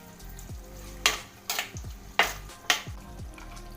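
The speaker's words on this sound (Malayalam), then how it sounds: "ഇതിലേക്ക് നമുക്ക് പുളി പിഴിഞ്ഞ് വെച്ച വെള്ളമാണ് ഒഴിച്ച് കൊടുക്കുന്നത്" Tamarind water is poured into a simmering potato pappadam curry, setting off sizzling and bubbling. Several sharp splashy hits land at roughly regular intervals over a steady low hiss from the pan.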